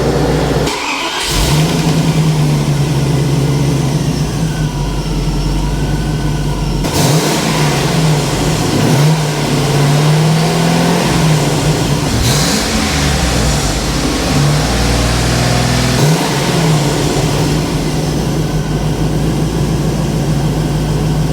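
A Callaway V8 swapped into a car in place of the old 4-liter engine runs loudly and continuously nearby, rising and falling through several revs, with no talking.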